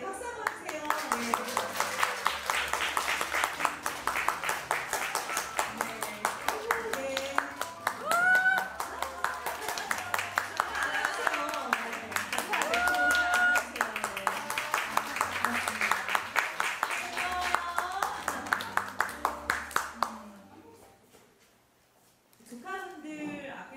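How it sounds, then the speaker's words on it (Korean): Audience clapping at a book concert for a debut short-story collection, long steady applause with rhythmic claps running under ongoing speech and music, then fading to quiet near the end. "박수 한번 주세요"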